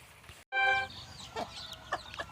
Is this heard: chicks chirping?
yes